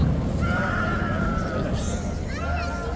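A police horse whinnies on a busy city street, a drawn-out neigh rising over steady crowd hubbub and traffic noise, with hoof clops and people chatting nearby.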